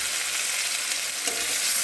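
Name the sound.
chopped onion and tomato frying in pan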